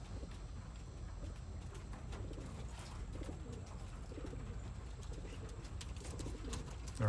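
Racing pigeons near their loft giving soft, low cooing calls over a steady outdoor background, faint and somewhat distant, with occasional light clopping or shuffling sounds.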